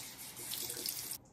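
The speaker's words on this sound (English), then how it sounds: "I think I need to do it in like streaming water." Tap water streams into a sink for about a second while a boiled egg is peeled beneath it, a steady close hiss that cuts off abruptly near the end.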